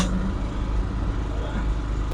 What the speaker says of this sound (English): There's another truck passing by us right there.